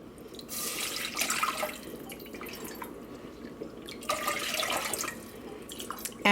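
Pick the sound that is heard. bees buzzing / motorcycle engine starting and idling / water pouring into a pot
water pouring into a pot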